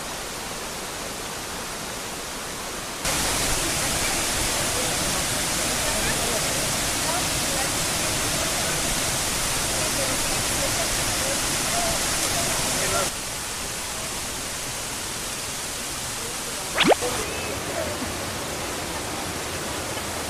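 A river in Corcovado rushes as a loud, steady broadband wash of flowing water, heavier through most of the stretch, with one sharp brief click near the end.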